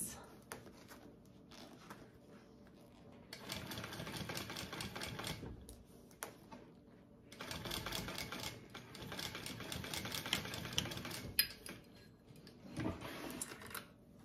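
A sewing machine stitches a fabric bag in quiet bursts, its needle rattling rapidly for a few seconds at a time, separated by short pauses before it starts up again.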